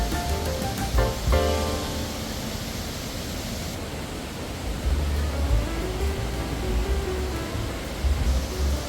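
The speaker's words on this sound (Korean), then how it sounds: "폭포 제일 위로 올라가면 앞에 서 있기만 해도 물살이 너무 많이 날려서 옷이 다 젖을 정도로 폭포가 거셌어요" A powerful waterfall near Luang Prabang, Laos, roars as a steady, dense wash of rushing water, loud and unbroken throughout with no voices.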